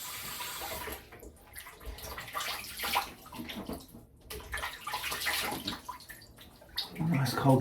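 Cold water splashes and runs steadily from a tap into a basin, a busy continuous wash of splashing and trickling with small surges, a voice speaking briefly near the end.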